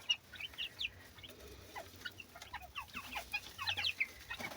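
Young chicks peep and cheep in quick scattered bursts, with soft clucks among them, fairly faint against a quiet yard backdrop.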